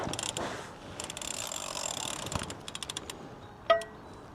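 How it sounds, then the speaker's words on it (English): Draper ratchet cranking against a mangled, stuck locking wheel nut on a Toyota Hilux Surf, a series of quiet rapid clicking pawl bursts with short pauses and a sharper metallic clack near the end, close and faint. "I think the ratchet's actually going to break because nothing else is turning."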